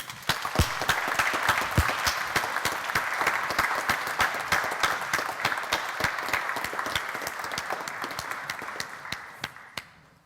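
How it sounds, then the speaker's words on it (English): An audience at a Cambridge Union debating society handover claps loudly and at length, with a thick sustained wash of clapping and some distinct sharp individual claps, tapering off and ending after about ten seconds. "a massive round of applause for Shoan."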